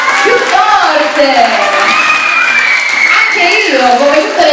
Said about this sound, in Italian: Fate un applauso, più forte.